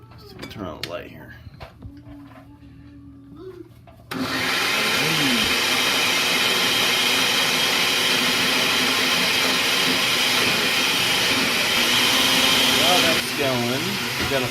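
A kitchen blender starts abruptly after some talking and runs at a loud, steady whine for about nine seconds before cutting back, with brief speech before and near the end.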